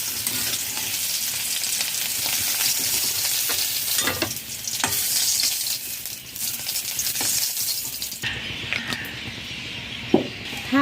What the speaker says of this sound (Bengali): লো টু মিডিয়াম ফ্লেমে তিন মিনিট ভেজে নিয়েছি আলু ভাজা হয়ে গেছে